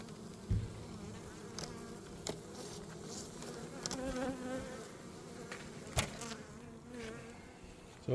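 Bees swarm at an opened beehive during maintenance, a dense buzzing hum that continues throughout, with a few knocks and clunks from the hive.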